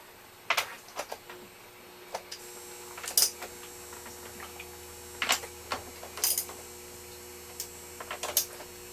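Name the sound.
wrench tightening a battery terminal stud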